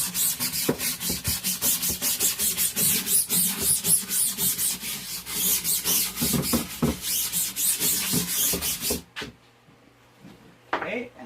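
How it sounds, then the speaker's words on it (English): A brush works degreaser into a flipped silkscreen printing frame in close, brisk, steady scrubbing strokes that stop abruptly, followed by quiet and a few faint handling noises. "Flip it, and then same thing, we'll rub it in."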